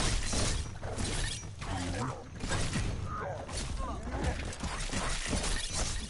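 Glass shatters in the action RPG Biomutant during a fight, a crash with scattered tinkling debris over busy combat noise and rustling effects, while someone talks over the game.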